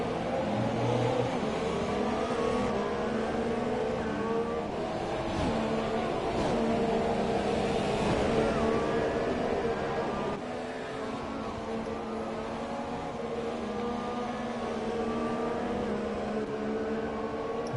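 Formula One cars racing around Bahrain in a video game, their engines whining steadily with rising and falling revs. The sound is loud and sustained, with no voices over it.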